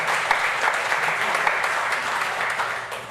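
An audience at a political breakfast meeting claps in a steady, dense burst of applause that stays loud throughout and tapers slightly at the end.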